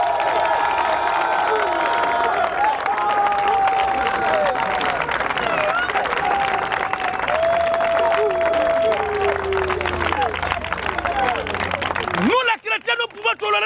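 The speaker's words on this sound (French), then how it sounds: "on acclame le Seigneur Jésus-Christ" A church congregation applauds and cheers for Jesus Christ in sustained crowd noise, with clapping, whoops and high whistling tones, while a voice talks loudly over it before it cuts off near the end.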